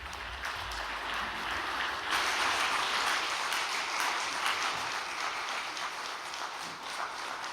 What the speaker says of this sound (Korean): 우리 천심영성 아카데미의 우리 치바 노리카 수련생을 따뜻한 박수로 맞이하시겠습니다